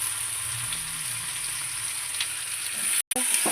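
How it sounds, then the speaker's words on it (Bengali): Soaked, washed mussels frying in a pan hiss with a loud, steady sizzle. The sound drops out abruptly for a moment near the end, and no one talks. "এবার আমি ভিজিয়ে রাখা মিটুলিগুলো দিয়ে দেবো"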